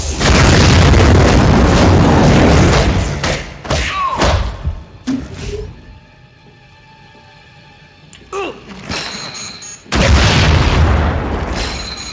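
Grenade blasts in the video game Marvel Heroes: loud booming thuds and bursts over game noise, several close together, then a quieter stretch with tonal hum before the explosions return.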